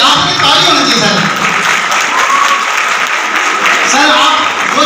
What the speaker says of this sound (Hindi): जी आपकी ताली होनी चाहिए सर।